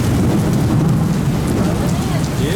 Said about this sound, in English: Okay, there's an uptick in the rain.